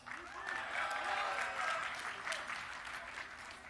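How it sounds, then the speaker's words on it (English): An audience claps and cheers continuously at a StarCraft 2 tournament match, with whoops and shouts rising over the dense applause before it begins to ease. "Give a cheer for Polt."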